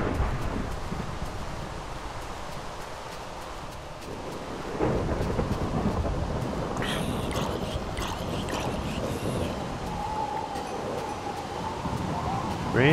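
Rain and thunder in Minecraft, a steady hiss of rainfall with a deep rolling thunder rumble swelling midway, plus scattered game noises on top, and no one speaking.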